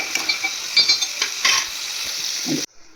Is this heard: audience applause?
no